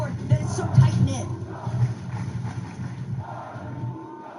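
Large crowd at a Fortnite FNCS Globals tournament cheering and shouting, a dense roar of many voices rising in bursts, moderately loud and somewhat distant.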